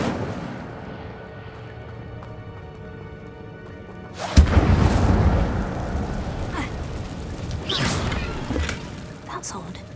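An Incendio fire spell bursts out in the Hogwarts Legacy video game: quiet ambience first, then a sudden loud whooshing blast of flame that roars and crackles before fading, with a second flare later.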